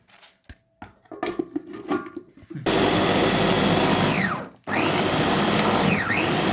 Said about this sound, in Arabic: معلقه من الملح ونضربها في الكبه.